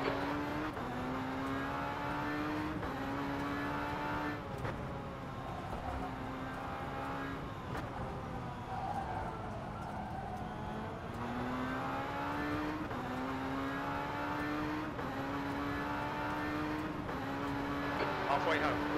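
Tatuus race car in a racing sim at Zandvoort: a continuous high engine whine rising and falling with repeated upshifts and downshifts through the lap, while a voice speaks over it.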